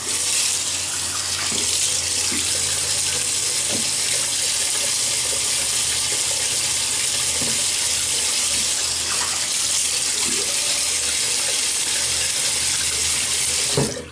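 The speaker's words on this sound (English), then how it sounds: "let me wet the face" Tap water runs loud and close into a sink as a face is wetted before a shave, a constant gushing stream that carries on without a break and with no voices.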